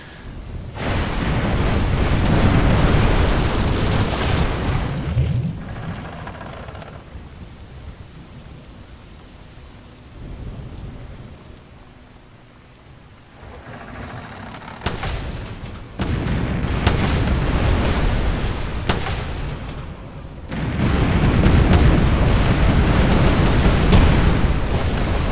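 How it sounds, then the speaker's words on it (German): Ship cannons booming in the pirate naval game Tempest, heavy rolling blasts in long loud bursts separated by quieter rumbling lulls, deep and reverberant like thunder. "Und unsere längere Kanonenreichweite erweist sich mal wieder als überaus effizient."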